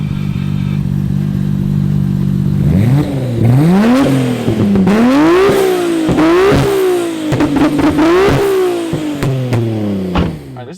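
A 2.6-litre built Nissan Skyline R34 GTR with HKS V-cam on a compound circuit track revs hard through repeated rising and falling sweeps, loud and close with gear-change dips and rasping exhaust over about ten seconds.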